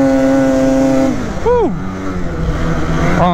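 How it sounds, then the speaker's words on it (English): A 2021 Polaris Matryx Assault 146 snowmobile engine holds a steady drone, then revs sharply up and drops away during a wheelie before settling into a close, loud idle. "I'm gonna get over here and do a wheelie."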